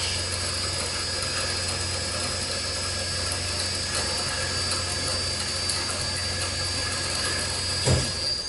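A Linmac WG-350DSAV semi-automatic bandsaw cuts through stock clamped in its vise, giving a steady, loud mechanical drone with a brief thump near the end and no talking.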